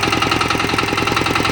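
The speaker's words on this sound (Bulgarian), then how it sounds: "ова е еден мини трактор од 12 коњски сили" A 12-horsepower Agrotehnika mini tractor engine idles close by, a loud, even chugging with rapid regular pulses throughout.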